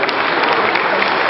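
At a pastry award ceremony, an audience applauds school students with dense, steady clapping that fills the whole moment.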